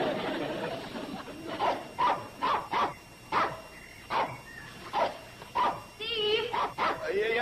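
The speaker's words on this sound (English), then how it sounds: "could you keep dog quiet?" A dog barks repeatedly in a house, a series of sharp, evenly spaced barks close by, with a few whiny yips near the end and people talking now and then.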